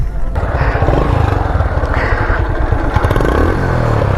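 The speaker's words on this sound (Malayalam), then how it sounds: "സൈലൻസർ ഞാൻ മാറ്റിയിട്ടുള്ള ഫോറസ്റ്റ് ആമി സൈലൻസറിൻ്റെ സൗണ്ട് ഞാൻ കേൾപ്പിച്ചു തരാം" Yamaha Crux motorcycle fitted with a Forest Amp aftermarket silencer with cut shells, idling and revving loudly up close, a rapid throbbing exhaust beat that rises and falls.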